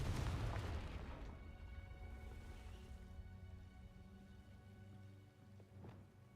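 In Hogwarts Legacy, a Confringo fire spell bursts with a loud, close boom at the very start, then rumbles and fades into a long, quieter ringing tail under faint ambient tones.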